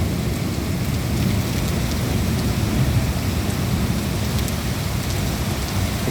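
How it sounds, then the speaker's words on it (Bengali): Steady rain pours down in a thunderstorm with lightning about, a dense, even hiss of drops hitting surfaces that holds constant and fairly loud throughout, with no voices. "খুব সুন্দর সুন্দর বৃষ্টি।"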